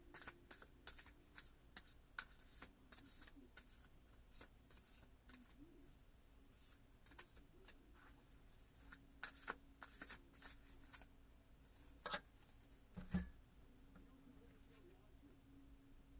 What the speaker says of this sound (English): let me do a quick shuffle